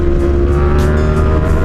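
Motorcycle engine held at a loud steady drone during a wheelie, close and continuous for under two seconds with a slight rise in pitch, no talking.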